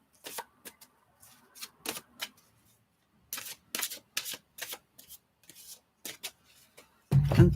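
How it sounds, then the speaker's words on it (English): Tarot cards being shuffled by hand close up, a series of crisp riffling bursts in irregular groups separated by short pauses, ending in a louder rustle. "Give them a good shuffle for you, Barbara."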